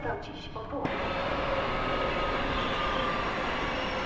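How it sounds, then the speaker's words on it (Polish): Rumbling wheels and steady running noise come from an airport train bound for Modlin as it pulls into a snowy Warszawa Zachodnia station in winter. Talk fades out as the continuous rail sound takes over, with a high squeal near the end. "I wjeżdża także pociąg lotniskowy do Modlina"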